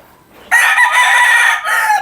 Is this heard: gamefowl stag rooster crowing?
yes